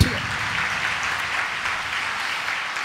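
A church congregation at a Sunday service claps together in a steady, dense wash of applause that carries on throughout, with voices mixed in underneath.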